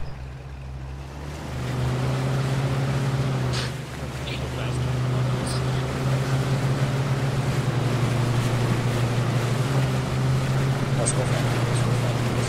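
Boat engines run steadily throughout an amphibious landing training exercise, a loud continuous low drone with wind and water noise, while voices talk intermittently over it.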